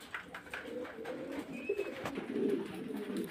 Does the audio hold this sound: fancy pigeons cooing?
yes